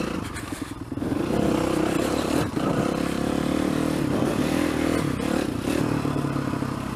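A kickstart-only motorcycle engine runs steadily under load in third gear, a loud, continuous rough drone with clattering mechanical texture and a brief dip partway through.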